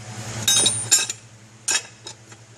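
Metal fan removal tools clinking against each other while taking the fan off a 2007 Hummer H3, a few sharp close-up taps and clanks spaced irregularly over a low steady hum.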